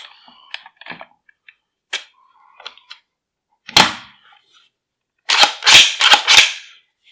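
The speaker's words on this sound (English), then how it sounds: "Insert the recoil spring." Parts of a Brownells BRN-180 rifle as the recoil spring goes in, with small metallic clicks and scrapes followed by a sharp snap and then a loud run of close metal clacks.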